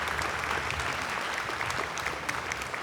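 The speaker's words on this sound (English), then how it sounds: "Another big round of applause for Alice." A crowd applauds steadily, a dense wash of clapping that holds at an even level from start to finish.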